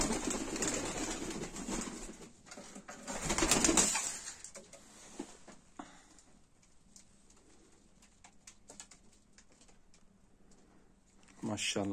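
Gifted pigeons coo softly in their coop, a few faint calls under and after a loud burst of talk, then mostly quiet with light rustling.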